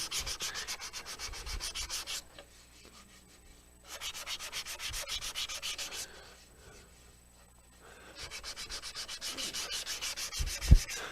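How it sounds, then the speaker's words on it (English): Sandpaper on a Velcro-backed pad rubs rhythmically over a turned wooden piece on a lathe, in two bursts of quick back-and-forth strokes separated by quieter pauses, ending with a small knock. "so I'm going to hand sand that"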